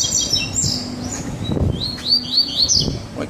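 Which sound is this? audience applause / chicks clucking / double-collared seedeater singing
double-collared seedeater singing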